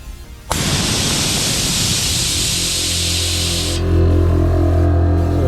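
A Viair 485c dual air compressor kicks on abruptly and runs loud and close, with a steady hiss and a deep rapid motor rattle that grows slightly heavier near the end.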